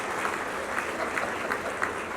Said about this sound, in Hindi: दोबारा ताली हो जाए मिक्की साहब के लिए